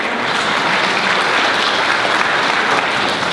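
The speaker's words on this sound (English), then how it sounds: "Please give a round of applause for Councilmember Naker." Steady, full audience applause at an annual meeting, a broad continuous roar of many people clapping at even volume for the whole stretch, with no speech on top.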